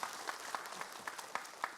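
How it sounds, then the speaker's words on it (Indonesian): Studio audience clapping on an Islamic TV talk show, fairly faint and brief, with a few sharper individual claps standing out from the patter. "Tepuk tangan dong."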